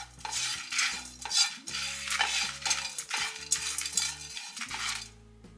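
A prawn ghee roast masala, with Kashmiri red chilli just added, is stirred in a pan with a metal spoon, giving close, repeated scraping and clinking strokes in an uneven rhythm, with a faint sizzle between strokes.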